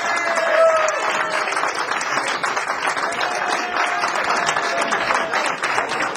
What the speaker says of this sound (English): give him a real round of applause